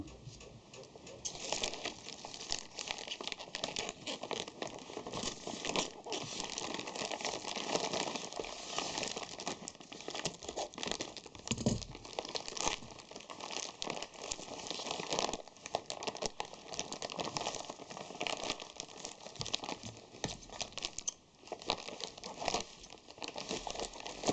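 A metal lathe tool is unpacked from its packaging, with dense, continuous crinkling and rustling of wrapping material close by, broken by small ticks and taps.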